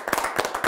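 Bursts of hand clapping from an audience greeting remarks about falling malaria deaths in a French-language African talk show studio, a few quick, close claps in uneven rhythm.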